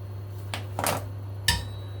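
A metal frying pan clanks onto a stovetop in a home kitchen, two short clattering knocks followed by a sharper ring, close and alone.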